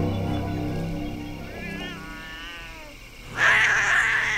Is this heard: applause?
no